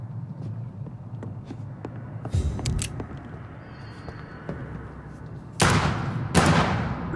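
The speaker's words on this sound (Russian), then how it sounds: "2 раза нажал, он 2 раза выстрелил" Gunshots in the video game Vampyr, with faint ticking and muffled ambience giving way to a couple of sharp, loud blasts near the end.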